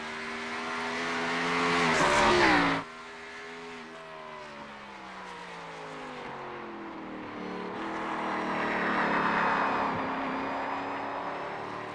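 A race car on a qualifying lap at Watkins Glen, its engine roaring loud and close before cutting sharply, then rising and falling in pitch through gear changes and corners as it pulls away and builds again.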